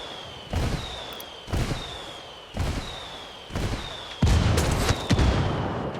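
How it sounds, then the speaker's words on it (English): Indirect artillery strikes called in by rebels in Ghost Recon Wildlands: five heavy booms land about a second apart, each with a rumbling tail, the last ones louder and overlapping, with a thin whistle tone running above. "I called the rebels for some indirect fire."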